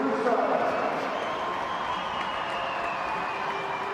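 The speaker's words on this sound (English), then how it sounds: "And a fine greeting from the crowd here at the Riverside." Crowd applauding at the Riverside stadium during an England football match, a steady wash of clapping and cheering heard under a commentator's voice.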